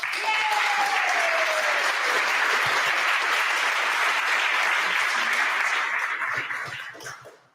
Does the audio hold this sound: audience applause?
yes